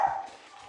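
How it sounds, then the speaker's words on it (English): A single short bark from a pet dog indoors in a kitchen, fairly close and moderately loud, then quickly fading, with no talk over it. "that's just my dog barking"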